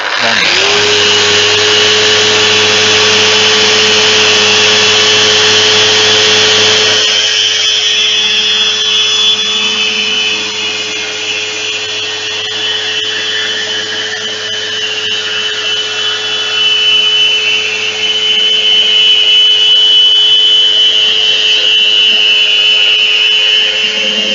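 A Festool Rotex sander works camphor wood with 80-grit paper, a loud continuous whine and hum with a steady tone, shifting slightly in pitch partway through as it bears on the surface.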